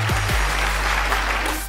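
Audience clapping on a Telugu TV game show stage, a loud, continuous wash of applause with low music or hum beneath it, steady throughout.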